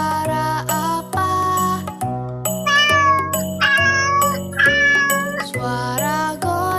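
A cat meows repeatedly, with drawn-out mews rising over a cheerful chiming tune that keeps playing beneath.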